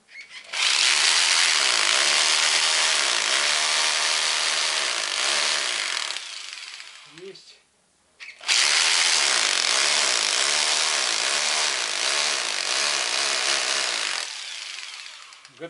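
An electric drill bores holes into brick in a garage in two long, loud grinding runs, broken by a brief pause between them, close up.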